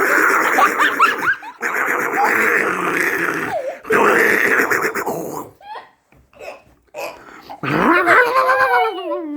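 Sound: child imitating a growling, barking dog

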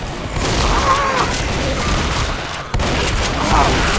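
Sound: gunfire in the video game Left 4 Dead

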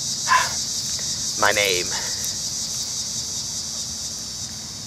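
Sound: outdoor bugs chirping, like crickets

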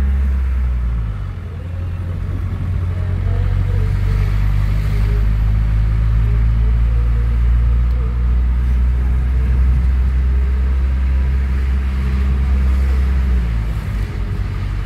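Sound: interior rumble of an old Mercedes car driving

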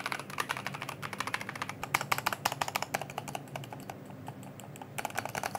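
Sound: typing on mechanical keyboard

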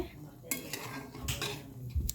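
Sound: stirring milk in a pot

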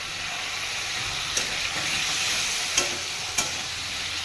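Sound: stirring and sautéing carrot-potato paneer curry in a pan

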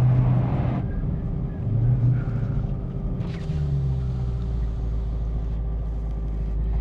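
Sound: 2023 Dodge Demon 170 engine accelerating

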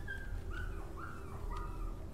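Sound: dog barking in a video game (Rewind or Die)

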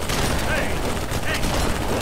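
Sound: gunfire in video game Halo 3

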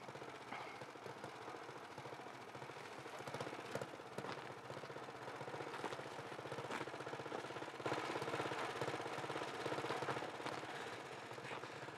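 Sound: motorcycle engine running

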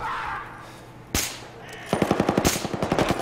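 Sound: gunfire in the video game Battlefield 4

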